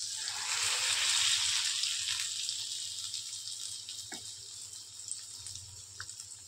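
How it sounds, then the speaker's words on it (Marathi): Pomfret fish pieces frying in a pan of hot oil: a loud hissing sizzle that swells at first, then settles into a softer steady crackle with occasional pops. "एक बाजू छान फ्राय होऊ देऊ आपण।"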